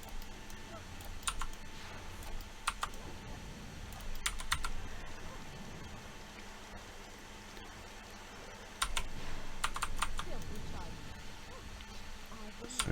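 Bursts of computer keyboard typing during video game play, clicking in quick irregular clusters at moderate level over a steady background hum, with brief pauses between runs.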